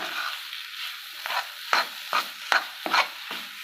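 Grated beetroot being sautéed for a spicy chutney, with a spatula scraping and stirring the pan in a rhythmic series of clear strokes over a soft sizzle, close and without speech.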